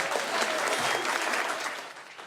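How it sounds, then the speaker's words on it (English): Studio audience on a TV music quiz show applauds, a short burst of dense, loud clapping that eases slightly toward the end. "Give him a round of applause."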